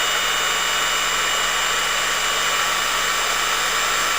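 A Kamolee DTW700 cordless impact wrench runs at maximum speed, giving a steady, loud high-pitched motor whine that holds unchanged throughout with no talk.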